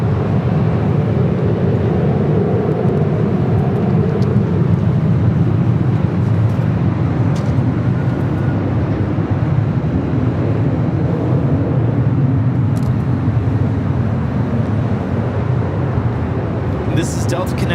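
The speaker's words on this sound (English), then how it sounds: "This is Delta Connection 3842 taking off to San Jose on the E175." A Delta Connection Embraer E175 jet takes off at LAX, its broad engine roar steady and loud throughout with a low rumble, while distant airport noise sits underneath.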